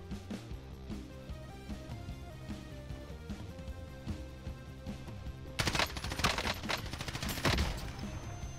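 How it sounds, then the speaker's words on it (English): Gunfire in Call of Duty Warzone, a battle-royale shooter, with rapid automatic bursts over a musical in-game backdrop, growing louder and denser in the last few seconds. "Everyone's shooting at us right now."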